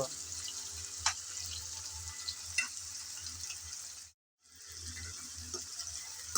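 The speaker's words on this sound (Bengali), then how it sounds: "আমি একটা ঝাঁঝরির সাহায্যে তেল থেকে সবজি তুলে নিচ্ছি" A slotted spoon lifts fried winter vegetables such as cauliflower, carrot and long beans out of hot oil. Oil hisses and sizzles steadily, with a few scraping clinks and one brief silent gap. No one talks over it.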